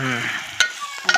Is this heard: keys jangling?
no